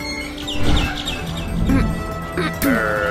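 Birds chirping in the video game Garten of Banban 6, quick high tweets and short calls scattered over a low game background hum, fairly close, with a voice partly overlapping.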